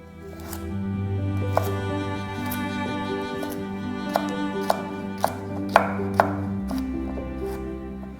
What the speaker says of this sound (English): Chop some carrots into matchsticks.